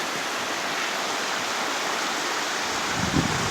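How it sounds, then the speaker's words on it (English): The Waptis River, a good-sized mountain river on the Pacific Crest Trail near Dutch Miller Gap, rushing in a loud, steady broadband roar with a slight shift near the end, no voices. "That's a good sized river."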